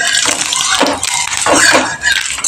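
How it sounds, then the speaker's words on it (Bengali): Nigella seeds (kalonji) tempered in hot oil for a Bengali pui shak chorchori, giving a steady loud hiss and crackle across the clip with brief dips, with no voices. "এবারে আমি তেলের মধ্যে কালো জিরে ফোড়ন দিয়ে দিচ্ছি"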